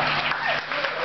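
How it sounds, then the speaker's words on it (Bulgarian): An audience at a Black Sea concert claps for Emre and Dilyara, a short, dense burst of applause heard close while a voice talks over it. "Моля за вашите ръкопляскания за Емре и за Диляля"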